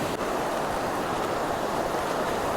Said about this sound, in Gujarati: દરિયાની લહેર જોવો તમે પાછળ